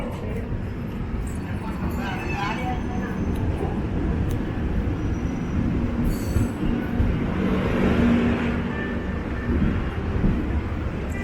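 The 20684 Tambaram Superfast Express pulling into a station heard from on board, a continuous heavy rumble of wheels and carriages with faint squeals, steady and loud, with voices talking over it.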